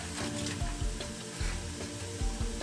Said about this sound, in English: go ahead and put your ham in there. Stir your potatoes up so you can get your seasoning everywhere.